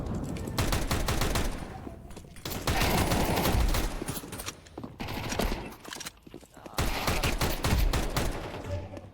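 Gunfire in a Counter-Strike 2 match: dense rapid bursts of automatic shots come in long stretches with brief gaps, loud and close, and a voice occasionally talks underneath.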